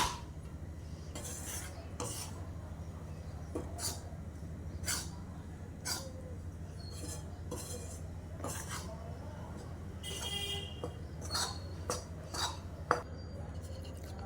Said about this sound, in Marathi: थोडं थोडं करून आपण हे तेलामध्ये घालूया पिठामध्ये घालूया आणि छान खरपूस भाजून घेऊया पीठ